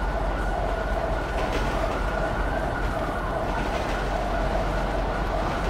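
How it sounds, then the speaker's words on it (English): A train rumbles past alongside a highway in the police-patrol mod LSPDFR, a steady loud roar with a sustained horn-like tone and no breaks, heard without any talking. "Oh, yeah, there goes the train."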